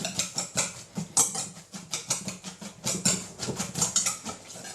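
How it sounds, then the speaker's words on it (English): A whisk breaks up onions in a thick mixture for lamb souvlaki, making quick, close, rhythmic wet patters and clicks that repeat evenly throughout. "So now we're going to add in those onions. Just break them up, use the whisk."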